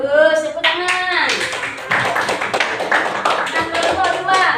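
A school class applauding with hand clapping during a lesson: a voice sounds briefly at the start, then close, lively clapping from a group of students continues with some overlapping chatter.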